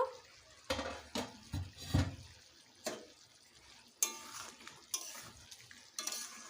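Goat meat being stirred and browned in a pot, with intermittent scraping and clinking strokes of a spoon against metal, fairly quiet, and no voices.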